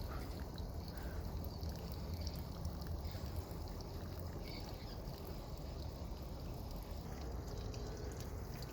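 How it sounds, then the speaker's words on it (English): Laundry water gushes out of a 55-gallon tank through three opened valves, a steady, continuous rushing and splashing that holds at an even level throughout with no talking. "And the water starts coming out."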